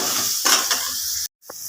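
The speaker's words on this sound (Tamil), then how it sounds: "இப்போ நல்லா எல்லாத்தையும் வதக்கிக்கலாம்" Steady sizzling of onions and tomatoes sautéing in a pan for a green gram curry, with a brief stirring scrape and a short cut-out near the end.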